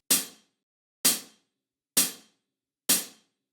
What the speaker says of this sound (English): Tapper is a hi-hat.